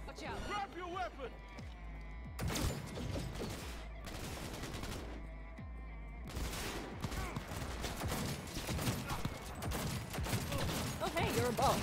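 Gunfire in the video game Cyberpunk during a boss fight, rapid bursts of shots and fusillades coming in clusters, with someone talking over the action.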